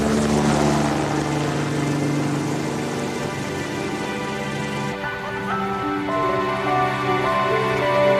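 Life flight helicopter for a medical airlift, a loud steady rotor and engine drone with humming tones that shift as it passes close overhead.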